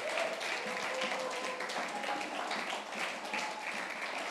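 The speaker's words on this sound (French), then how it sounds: "est-ce qu'on peut applaudir le Seigneur?" A church congregation applauds during a sermon, a sustained wash of many hands clapping, moderately distant and steady throughout.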